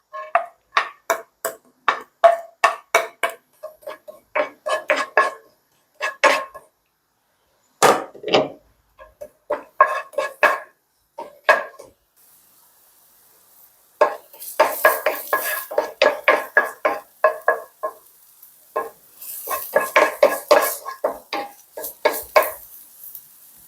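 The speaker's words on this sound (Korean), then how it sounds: "마늘, 생강, 대파 먼저 볶아줍니다" Metal spatula scraping and clanking rhythmically against a wok while garlic, ginger and green onion are stir-fried for Chinese-style kkanpunggi, steady bursts of close metallic clatter with a brief pause midway and a faint hiss.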